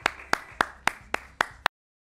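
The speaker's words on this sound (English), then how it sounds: "Everybody, give everybody a round of applause and a big wave." Audience at a local community program clapping in unison, seven sharp, evenly spaced claps in a steady rhythm before the sound cuts off abruptly.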